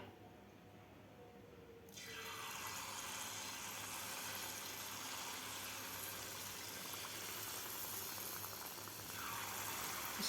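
Jalebi batter dropped into very hot oil bursts into a sudden, steady hissing sizzle that holds evenly for several seconds, close and continuous with no speech.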